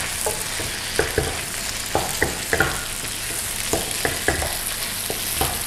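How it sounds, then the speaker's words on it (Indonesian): Onion going into a pan with cooked chicken pieces for sapo tahu, frying with a steady sizzle and repeated sharp spatula taps and scrapes against the pan. "Kita masukin bawang bombay."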